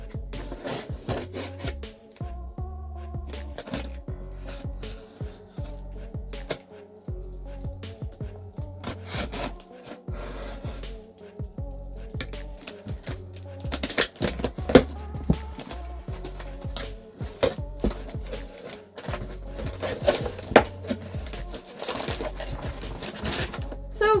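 Cardboard and plastic packaging of a Chainsaw Man Nendoroid figure being handled up close: rubbing, crinkling, scraping and tapping in irregular bursts, with someone talking intermittently.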